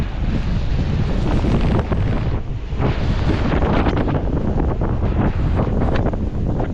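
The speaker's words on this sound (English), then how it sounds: "Yeah, there it comes. Big gust," A big wind gust during a winter storm at Big Virginia Lake, loud roaring wind buffeting the microphone continuously with only a brief dip in force, and no voices heard.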